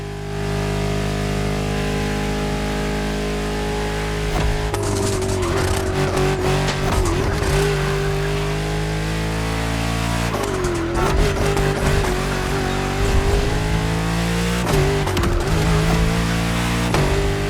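Luxury French cars racing through the roads of Maui in The Crew Motorfest video game, loud continuous engine roar with revving pitch changes, gear shifts and tire squeals across the whole stretch.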